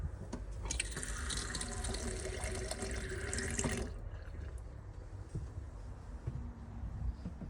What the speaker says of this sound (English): this basically gets the water pump going, so you'll hear it going when I turn the tap on